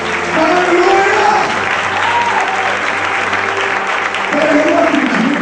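A large church congregation claps steadily and enthusiastically during a worship service, with voices rising over the applause and a sustained musical tone underneath.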